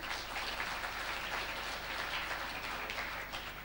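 A crowd applauds steadily, a dense wash of clapping that holds evenly throughout.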